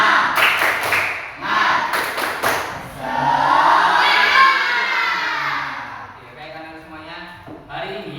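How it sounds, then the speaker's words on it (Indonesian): A class of sixth-grade children does a rhythmic spirit clap, with short clap bursts early on followed by loud group chanting and shouting, the voices dominating the clapping. "Biar semangat yuk kita melakukan tepuk semangat."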